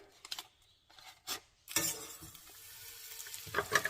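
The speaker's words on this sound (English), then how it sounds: "first you need to take a pan, put some butter" Butter melting in a pan for paneer curry gives a soft sizzle that starts suddenly and continues steadily at low level, after a few faint clinks and handling noises at the start.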